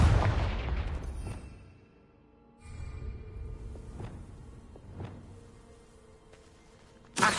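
A Confringo spell blast in the video game Hogwarts Legacy lands as a loud booming explosion with a whooshing tail, followed by fainter thuds and impacts, then another sharp blast at the end.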